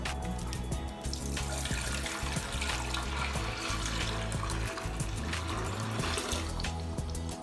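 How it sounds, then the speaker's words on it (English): Water pours steadily and loudly into the tank of a Bluestar appliance, a continuous gushing splash with no pauses. "now I'm just going to pour in the water inside the tank."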